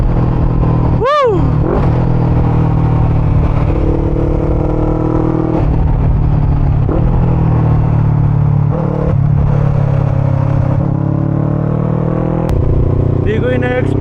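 VOGE 500 DS motorcycle carving twisty roads, its engine humming loud and close and shifting pitch through the curves, with wind buffeting throughout and a rider's voice cutting in now and then.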